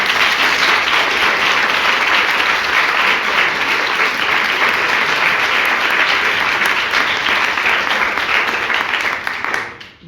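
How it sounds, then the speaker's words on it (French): An audience applauds the speakers at the close of a staged mock trial, steady dense clapping filling the room from start to finish before fading out at the very end. "Je pense qu'on peut encore les applaudir une fois."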